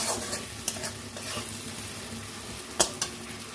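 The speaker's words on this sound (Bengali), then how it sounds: "একটু টমেটো সসও দিয়ে দেবো। এটাকে ভালো করে একটুখানি কষাবো।" Paneer masala with tomato sauce sizzles gently while being sautéed in a pan, a low continuous hiss with occasional crackles and one sharp utensil clink.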